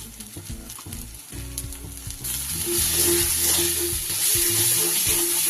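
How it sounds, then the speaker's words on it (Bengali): Coriander, cumin and turmeric powders fry together in a pan for Bengali doi katla, with a near, loud sizzle that swells midway, punctuated by stirring clinks and scrapes, without speech. "সব একসাথে খুব ভালো করে কষিয়ে নেব"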